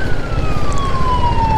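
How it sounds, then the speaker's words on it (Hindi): A police car siren wails loudly and steadily on a highway, close by and continuous, with a low road rumble underneath. "पीछे चल रहा है पुलिस की गाड़ी के और सायरन बज रहा है"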